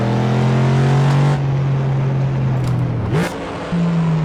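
Ford Mustang engine in a racing game holding a steady, loud drone through a drifting lap, dipping briefly as the revs drop near the end, then settling back to a higher steady tone.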